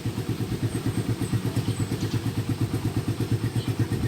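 A 2016 Yamaha R15 fitted with an Akrapovic exhaust idles close by, its rapid, lumpy pulses thumping in an even rhythm, loud and alone.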